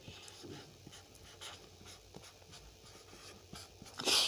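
Chalk or pen scratching on a board during a chemistry lesson, a series of faint, irregular writing strokes with light taps, ending in a louder brushing burst.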